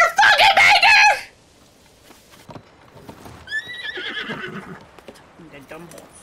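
A horse whinnies loudly in the video game Tears of the Kingdom, a bright, shrill neigh at the start followed by a quieter second whinny and faint hoof sounds.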